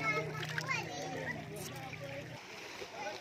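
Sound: child jumping and splashing into fresh water

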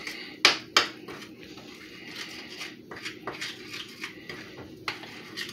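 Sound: stirring and mixing brownie muffin batter in a pan

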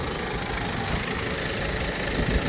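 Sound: BMW diesel engine idling under the hood

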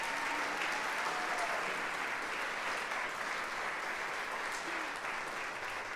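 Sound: audience applause at a recital

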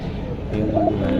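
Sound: pigeons cooing

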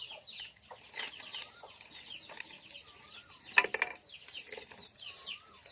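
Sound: village chickens clucking

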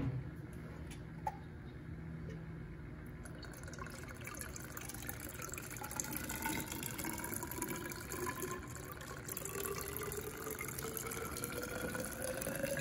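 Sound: peach brandy moonshine running from a still into a jar

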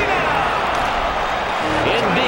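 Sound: crowd cheering in NHL 2K6 video game

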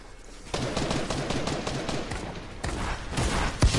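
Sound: gunfire shooting down another player in a video game

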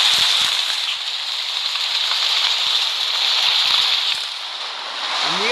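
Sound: rain falling

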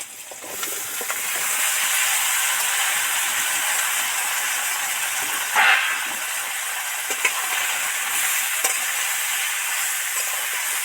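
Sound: potato, pumpkin and tomato added to hot oil with onions

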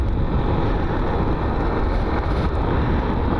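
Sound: car passing close on a potholed road

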